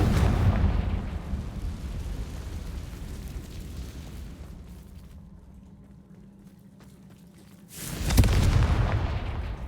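A fiery Confringo explosion spell blasting in the video game Hogwarts Legacy, a loud roaring boom that fades into rumble before a second heavy burst near the end.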